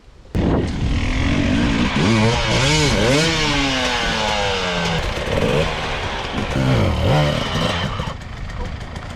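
An enduro motorcycle on a rough off-road race course, its engine close and loud, revving up and down in rising and falling strains while working hard, steady throughout with no talk.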